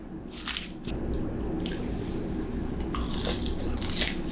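Bites and chews of a salad with dressing, a wet squish and crunch coming in a few close bursts over a steady low background hum, with no talking.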